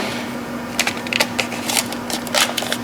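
Tape pulled and pressed onto a motorcycle turn signal lens during an LED turn signal install on a Victory, giving a series of quick crinkly rips and taps over a faint steady hum.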